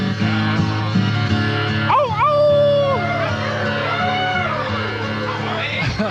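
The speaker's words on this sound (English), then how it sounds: "that's enough dog noises now" Dog-like barks, yips and howls at a live folk concert, sung by a crowd in a small club under steady musical sound, with rising and falling howling tones near the middle.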